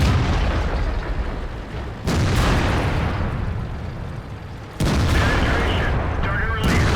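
A Foch tank in World of Tanks fires its cannon twice, roughly three seconds apart. Each loud, close blast cuts through a constant heavy rumble of battle and engine noise.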